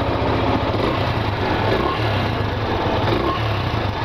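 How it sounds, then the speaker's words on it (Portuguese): A new 2023 Yamaha Fazer FZ15 150 cc motorcycle, assembled only a day earlier, runs at a steady idle-like rumble close by, its low engine drone constant and loud throughout with no talking. "Olha como tá diferente o ronco dessa moto."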